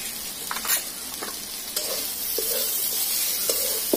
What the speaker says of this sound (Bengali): তো আমলকিগুলো প্রায় ভাজা হয়ে এসেছে